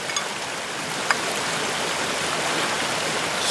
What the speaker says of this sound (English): So, I'm going to start whipping it up.